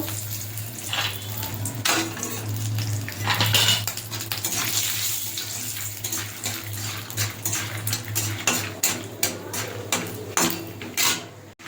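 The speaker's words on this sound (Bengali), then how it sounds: "ভাজা চিনে বাদাম আমি আরেকটু ভেজে নেব" Peanuts fry in hot oil in a pan and are stirred, giving a continuous sizzle with frequent metallic scrapes and clinks of a utensil, close by and steady.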